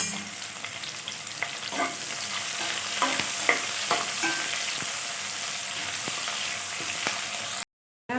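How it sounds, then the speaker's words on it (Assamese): Onions fry in hot oil in a pan for chicken biryani and hiss continuously up close. A spatula scrapes and taps the pan now and then, and the sound cuts out briefly near the end. "পিঁয়াজটো ভাজি অলপ ৰঙচুৱা হ'লে আদা নহৰু দি দিব।"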